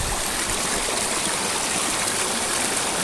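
A waterfall pours in a steady, loud rush of water, close and unbroken, with no voices over it.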